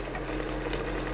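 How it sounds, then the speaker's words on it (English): Beef searing in a pan for Hungarian goulash, a steady, soft crackling sizzle with no pauses, faint and close, with no voices. "we want to sear it so that a lot of the juice stays in the meat"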